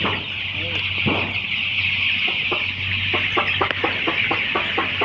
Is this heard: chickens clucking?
yes